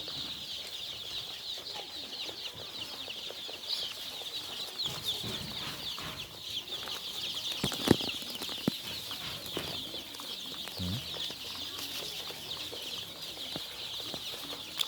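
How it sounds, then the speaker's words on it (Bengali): Hen and young chicks of the Sonali breed, heard as soft clucks and peeps among wing flaps and rustling, with a steady high chirping bed throughout and one sharper flutter near the middle. "আমার মুরগির বাচ্চাগুলো ইনশাল্লাহ খুব সুন্দর, কোয়ালিটি ভালো।"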